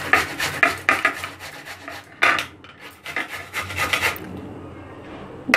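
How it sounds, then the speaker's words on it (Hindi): Peeled bottle gourd (lauki) scraped over a kitchen grater, close and fairly loud, in a run of quick rasping strokes with a few brief pauses between them and no talking. "ये इससे हमें इसको कद्दूकस कर लेते हैं इस तरह से"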